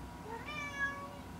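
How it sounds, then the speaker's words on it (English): A single cat meows indoors on a bed, one clear rising-then-falling cry heard quietly and alone. "I don't know if you can hear him meowing."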